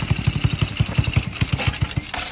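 A motorcycle engine idles with a fast, even thumping pulse close to the microphone, a steady mechanical chug that runs throughout before a slight change near the end.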